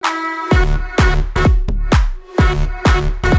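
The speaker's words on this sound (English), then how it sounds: "this is how it sounds now with the reverses and everything" Electronic music track built from repeated sharp, punchy hits with swelling reverse-reverb tails rising into each one, playing loud and steady with no voices.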